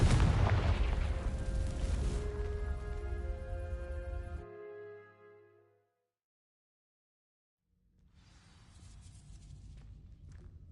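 Fire spell blasts a patch of dry vines in Hogwarts Legacy, a loud burst with ringing, crackling tones that fade to silence before a softer rustling rises again.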